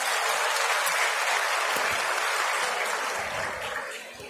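Sustained audience applause fills a women's conference hall in Panchkula, steady and dense throughout, easing off slightly toward the end with no voices over it.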